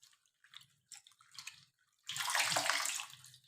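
Fresh papaya leaves are washed with hot water. A few soft drips and splashes come first, then a steady close rush of running water pours over them without pause.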